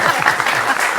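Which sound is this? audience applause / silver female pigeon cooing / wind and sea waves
audience applause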